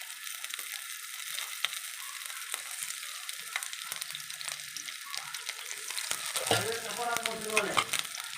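Chopped onions sizzle loudly in hot oil, a steady crackling hiss with scraping stirs, growing busier toward the end.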